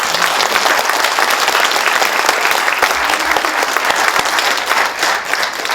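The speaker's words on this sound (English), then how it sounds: "So I think they deserve a round of applause" Steady, enthusiastic applause from a large audience at an induction ceremony fills the space, sustained clapping that continues evenly without pause.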